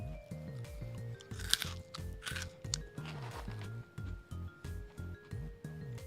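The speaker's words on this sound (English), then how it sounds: "I don't know if you can hear it, but I'm crunching some." Marshmallows being crunched while eaten, a steady run of close, soft, repeated chewing crunches with a low hum running beneath, no talking.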